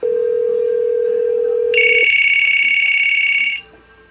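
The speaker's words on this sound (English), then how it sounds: "you will no doubt hear the absolutely shrill, terrible, and cheap ringer that's in this phone." A Crosley CR56 replica payphone rings shrill and loud. A steady tone from the line gives way to a sustained electronic ringer buzz that stops abruptly near the end.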